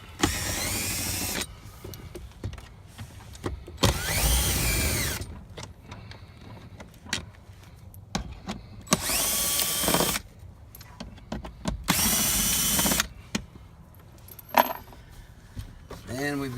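A power driver backs out T15 Torx screws from the glove box of a Chevy Silverado or GMC Sierra truck cabin: four loud whirring bursts of about a second each, separated by clicks, rattles and handling noise.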